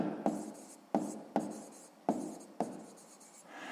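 A pen writes a number on paper, five quick scratchy strokes each starting with a sharp tap and trailing off, close and quiet with no talk.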